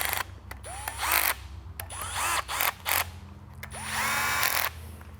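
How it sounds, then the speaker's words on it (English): A ratchet tightening cylinder head bolts on a 2005 Subaru Forester engine, heard in three separate bursts of rapid clicking, close and fairly loud, with short pauses between and no voices. "I'll go ahead and tighten them down the rest of the way."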